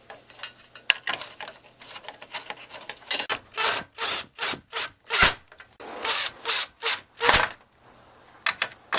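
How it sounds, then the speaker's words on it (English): A power drill drives screws into a plastic grill surround on a Toyota Tundra, heard as a series of short, loud, close bursts separated by brief pauses, with no talking. "Get these all started, and then I'll hit them with the drill."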